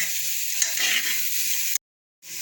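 Onion frying in a pan as the base for a mutton stew, a close steady sizzle with the scrape of stirring, which cuts off to silence briefly before the sizzle returns.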